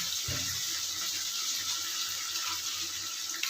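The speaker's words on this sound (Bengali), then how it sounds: "এবার আমি একটু পরিমাণ করে জল দিচ্ছি, দেখো 1 কাপ মতন দেবো" Water pours steadily into a pan of posto (poppy seed) fish curry, a continuous broad rushing splash lasting the whole moment, close and fairly loud, with no talking.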